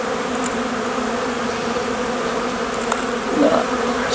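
A steady, dense drone of honey bees buzzing at a hive entrance in February, continuous and close, with a few individual bees flying past nearer the ear.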